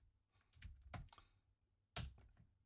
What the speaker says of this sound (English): I'm just going to click on the search bar and type in essay.